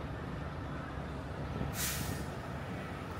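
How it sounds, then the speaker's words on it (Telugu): A dump truck at a truck stop, with a low steady engine rumble and one sharp burst of air hiss partway through, close by with no talk. "డంప్ ట్రక్ అంటారు దీన్ని"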